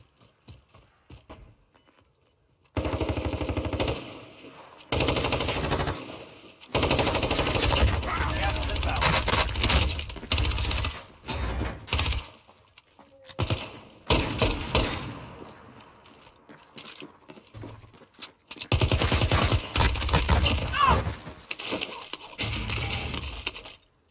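Automatic AN-94 rifle fire in the Warzone video game comes in loud, dense bursts of a few seconds each, separated by quieter stretches, with voices talking between and over the shooting.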